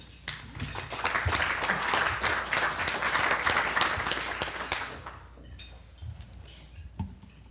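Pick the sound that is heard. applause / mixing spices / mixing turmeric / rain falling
applause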